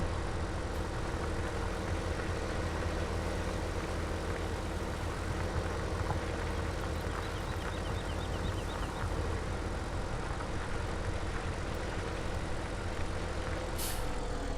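A tractor engine idles steadily in Farming Simulator 17 as a constant, fairly quiet rumble that runs unbroken from start to finish, with a brief high hiss near the end.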